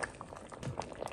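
Lentil and vegetable soup bubbling in an uncovered pot, with small irregular pops and blips over a soft simmering hiss, heard up close for about a second.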